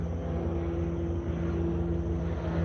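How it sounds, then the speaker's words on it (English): A helicopter passing over a house gives a low, steady mechanical drone with a faint rhythmic rotor throb, heard at a distance and fairly quiet throughout. "The helicopter just passed over the house."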